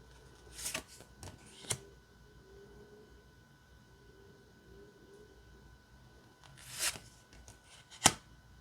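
A tarot card deck is shuffled by hand in a quiet room, several sharp riffling bursts separated by soft handling and long quiet stretches.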